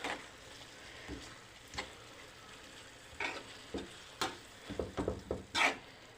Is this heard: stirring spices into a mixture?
yes